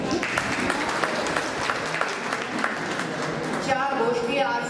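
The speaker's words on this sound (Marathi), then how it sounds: "आदरणीय ताईंसाठी टाळ्या वाजवा." An audience at a village workshop on sex ratio breaks into clapping, a continuous patter of many hands, moderately loud, that fades toward the end as a voice begins speaking.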